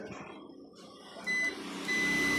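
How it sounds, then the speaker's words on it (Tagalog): Two sharp, steady electronic beeps from a multimeter continuity buzzer testing a refrigerator defrost timer sound close up, the second starting after a brief gap, over a low background rumble. "ang tester natin nakalagay sa buzzer."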